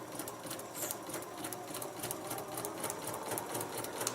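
A sewing machine stitches a paper-pieced log cabin heart quilt block, a fast steady mechanical whirring with rapid even needle clatter, close and continuous throughout.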